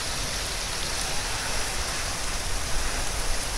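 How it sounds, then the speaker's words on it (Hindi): Heavy rain pours down in a Haryana village during a flood, a dense, constant roar of drops on surfaces with slight swells in intensity and no talking. "कितनी तेज़ बारिश है"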